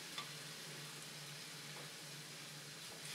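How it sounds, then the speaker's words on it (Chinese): Raw rice and saffron stir-fried together in a pan, a faint continuous sizzle with soft scraping of the stirring spoon, no talk. "然后再把米和藏红花一起倒进去，生米直接下锅，这样翻炒一下。"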